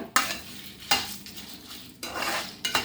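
Horse gram and rice grains fry in a pan, a soft sizzle broken by three or four quick scrapes and rattles of a spoon stirring the grains against the metal.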